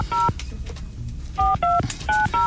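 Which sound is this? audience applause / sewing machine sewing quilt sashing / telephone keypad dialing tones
telephone keypad dialing tones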